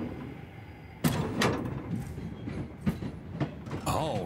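A simple trolley rolling on rails in the video game Voidtrain, with a steady low rumble of wheels broken by several sharp metallic clanks and clacks as it moves.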